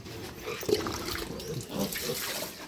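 Water runs into a pig's drinking container in a farm pen, a close, steady splashing pour that lasts the whole moment.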